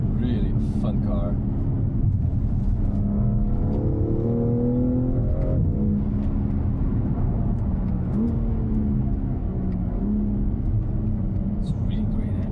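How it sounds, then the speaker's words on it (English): A BMW M3 Competition M xDrive Touring engine with 530 horsepower runs in a steady low drone beneath continuous close talk inside the car, with the engine note rising and falling gently through the whole stretch. "It's a really great engine."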